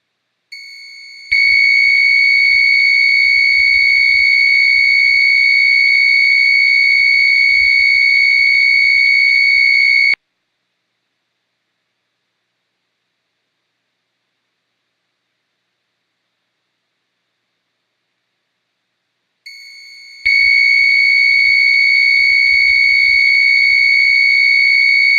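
HeartMate II system controller sounding its low flow alarm: a loud, shrill continuous tone that holds for about nine seconds, stops for roughly ten seconds of silence, then starts again and continues.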